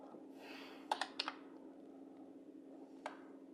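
Quiet keyboard typing of a search term, a few faint clustered key clicks over a steady low hum, with a later isolated tap.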